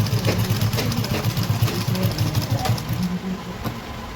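A sewing machine runs a lock stitch along an umbrella gown, a close, continuous motor whir with fast rhythmic needle pulses throughout.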